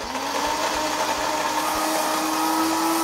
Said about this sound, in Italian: e azioniamo il frullatore.